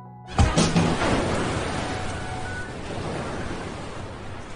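Rough ocean waves in a film scene crash in with a sudden loud surge, then roll on as a dense, continuous roar of churning water.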